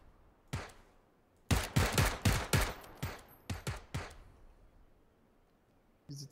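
An UMP submachine gun fires in a video game: a rapid volley of sharp, punchy shots, then several short bursts, with quiet gaps between and a final lone shot.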